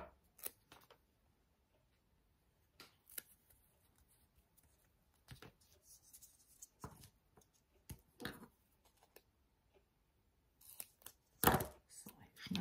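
Scissors snip through card paper in a craft session, a scattering of short, quiet, close cuts and rustles spread irregularly across the stretch, with a louder burst of snipping near the end.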